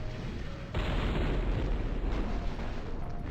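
Mech cannons fire in the MechCommander Gold strategy game, a sudden loud booming burst that swells into sustained rumbling blasts and explosions.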